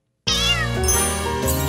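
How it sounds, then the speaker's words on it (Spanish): A cartoon kitten gives a loud, close, drawn-out meow that starts abruptly after a moment of silence and holds with a wavering pitch to the end. "Wendy, aquí está tu gatita"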